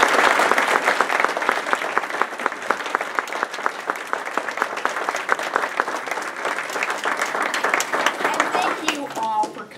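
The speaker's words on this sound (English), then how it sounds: "can we give another round of applause?" A sustained round of audience applause at the Richard Byrd Library 55th anniversary event, many hands clapping steadily and fairly loud before a voice returns at the very end.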